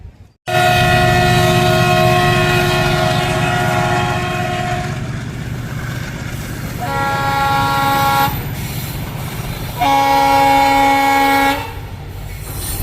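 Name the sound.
Sindhanur Express train arriving at platform 2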